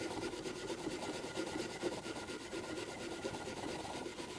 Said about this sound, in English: you need a wire brush, and you want to rub it